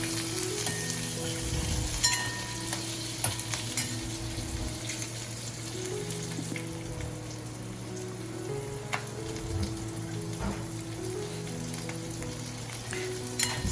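Roughly cut green chilies and diced onion fry in a pan for Indo-Chinese veg fried rice, a continuous close sizzle with occasional stirring clicks and a low steady hum beneath.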